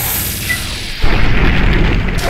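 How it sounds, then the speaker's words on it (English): A single heavy shotgun blast in the video game Fallout 3, a loud, close boom that cuts in suddenly and rolls on as a dense, sustained rumble to the end. "Shotguns work."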